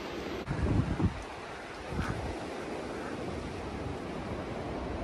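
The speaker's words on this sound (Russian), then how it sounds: "Звук, наверное, там шум один ветра, наверное, да?" Steady wind and surf along the Oregon Pacific coast, a broad continuous roar with some gusty buffeting on the microphone in the first second, no voices.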